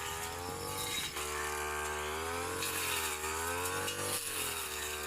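A petrol brush cutter clears weeds in an areca palm plantation, its small two-stroke engine droning steadily with a buzzing whine that rises and dips as the blade bites into the grass.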